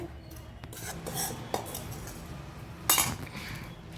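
A spoon stirs powdered sugar into a cooled kadhai mixture for panjiri, giving soft scraping and occasional sharp metallic clinks against the pan, close and quiet with no talking.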